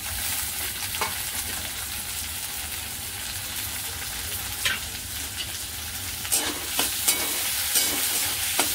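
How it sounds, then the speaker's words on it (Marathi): Garlic cloves, ginger and tomato fry together in a pan for a cashew masala, a continuous crackling sizzle that grows busier toward the end, with scattered scraping knocks from stirring. Nobody speaks. "आणि चांगलं खालीवर करून असं फ्राय करून घ्यायचं, चांगले 5-6 मिनिटं याला हलवत राहायचं"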